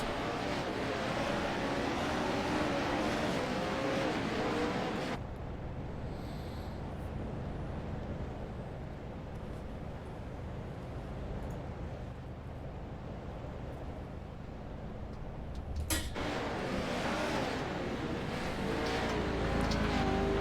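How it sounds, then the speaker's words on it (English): A pace car circles a corner of a race track at a motorsports park, its steady engine drone heard from a distance, briefly quieter midway before swelling back up, with no talk over it. "See that pace car coming around the corner, showing these guys how it's done."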